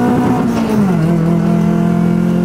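A Honda Civic EJ9 engine revs loudly and up close, with its pitch sliding down as it eases off into a steady, rough idle drone.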